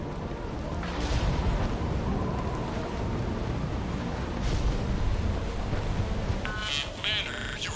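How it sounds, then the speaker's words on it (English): A thunderstorm in Mass Effect 3 pours heavy steady rain with deep rolling rumbles of thunder swelling and fading, and brief electronic crackles of interference near the end. "Storm's causing interference."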